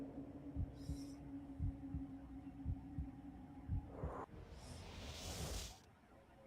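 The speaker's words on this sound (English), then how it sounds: "I can feel the heartbeat in my head here." A heartbeat effect from the PS2 game Psi-Ops: The Mindgate Conspiracy thumps in a steady, low, evenly spaced pulse over a soft hum, with a couple of airy whooshes sweeping past near the end.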